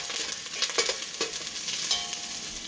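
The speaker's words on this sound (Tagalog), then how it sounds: "ilagay na natin itong bawang at saka sibuyas. Haluin lang ng konti." Onion and garlic sizzle and fry in a pan while being stirred, with bright crackling and a few scraping strokes of the spoon, close and steady with no talking.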